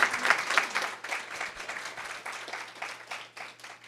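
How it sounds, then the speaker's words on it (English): An audience at a Charlotte workforce forecasting conference session applauds steadily for several seconds, a dense wash of clapping hands with no voices standing out. "Can I get another round of applause for my speakers, please, and our host?"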